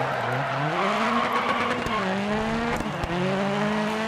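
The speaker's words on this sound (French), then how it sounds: "J'entendais le bruit de la fiesta" Ford Fiesta rally car engine in Dirt Rally, a loud continuous snarl whose pitch climbs and falls with gear changes, with a couple of brief sharp bumps and a hint of tyre noise throughout.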